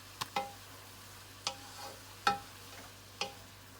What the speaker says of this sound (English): After a few minutes, stir everything together and blend it well.